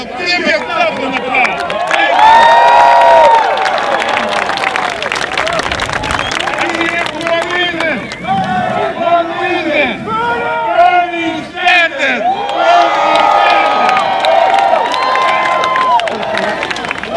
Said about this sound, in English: Give yourself a hand. Give yourself an applause.